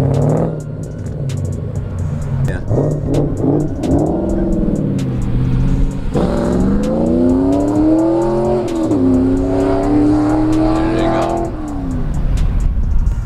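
A Ram 1500 pickup with a 7-inch lift kit revs up and down several times nearby, rising and falling in pitch, while a person speaks briefly over it.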